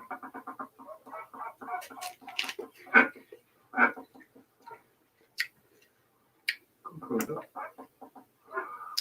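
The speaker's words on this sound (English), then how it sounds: "to show you my baby ducks real quick" A mother duck and her baby ducklings make quick bursts of soft clucking and chattering calls with short pauses between, close by and fairly faint.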